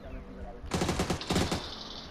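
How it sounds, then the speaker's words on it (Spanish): Two rapid bursts of gunfire crackle in quick succession in PUBG: Battlegrounds, with a quieter background before and after. "me dio un par de tiros"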